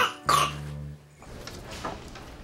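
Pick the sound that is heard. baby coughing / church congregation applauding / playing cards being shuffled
baby coughing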